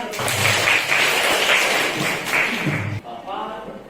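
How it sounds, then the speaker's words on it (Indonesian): A classroom group applauds together for about three seconds, loud and continuous with some thumps, then the clapping stops abruptly and a voice starts speaking. "Boleh tepuk tangan."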